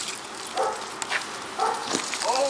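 A Billings Police K9 dog gives several short barks and yips at a police scene, moderately close, with brief pauses between bursts amid background noise.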